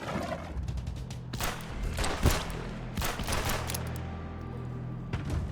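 Gunshots in an indie video game: several sharp bursts of firing and thuds, some clustered and rapid, over a steady background hum.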